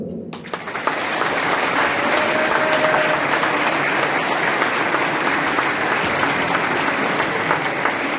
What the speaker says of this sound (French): je pense qu'on peut les applaudir comme il se doit